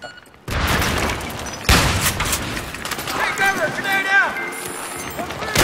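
Gunfire in the Battlefield video game during an objective capture: sustained loud bursts of shots with a couple of heavier booms, with game voices and effects mixed throughout.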